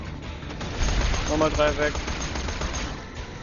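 SMG gunfire rattles in Borderlands 2 gameplay, rapid bursts of shots under someone talking briefly in German, with game effects filling the mix.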